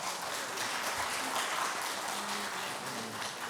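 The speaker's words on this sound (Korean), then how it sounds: "들어갈 때까지 계속 박수해 주시면 감사하겠습니다." Congregation applause during a Sunday morning church service at a Korean church, a steady, even wash of clapping that continues throughout at moderate level with no clear break.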